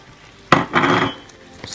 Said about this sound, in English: Stir all those in.